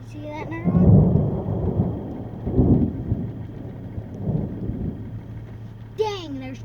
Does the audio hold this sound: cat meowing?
no